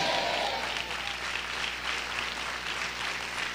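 Congregation applause in a church service, a dense, moderately faint wash of clapping from a large gathering that stays steady over a low background hum.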